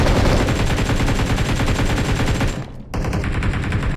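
Rapid automatic gunfire in the mobile battle royale PUBG Mobile, a loud dense continuous stream of shots that cuts out briefly before resuming, close and with no talking.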